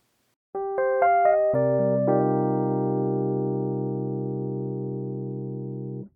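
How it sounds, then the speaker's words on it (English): Mellow Rhodes electric piano sample, unprocessed, plays notes rising in a quick run, then settles into a sustained chord that rings out clean and slowly fades, played alone. "my favorite Rhodes library at the moment and has been for a while."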